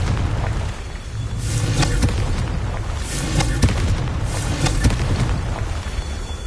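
A Confringo fire spell in Hogwarts Legacy sets off a series of booming explosions, three heavy blasts a second or so apart over a low rumble, loud and close with no voices.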